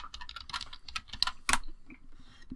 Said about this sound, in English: The click clack of your keyboard just sounds so funny on the mic